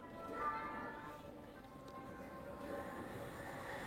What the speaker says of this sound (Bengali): আরে যে ট্রেন যাচ্ছে